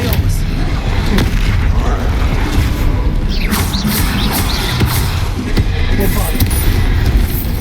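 Repeated Bombarda blasting spells explode during a spell-heavy Hogwarts Legacy battle, dense booming blasts and whooshes in a continuous loud roar with voices shouting over the fighting.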